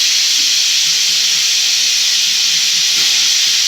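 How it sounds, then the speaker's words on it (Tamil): A pressure cooker cooking spinach vents steam in a loud, continuous high hiss that holds steady from start to finish with no break. "இப்போ 2 விசில் வந்துருக்குதுப்பா"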